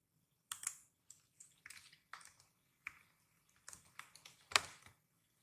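Code typed on a computer keyboard, with scattered bursts of close key clicks that come in uneven clusters against a quiet background and no talk.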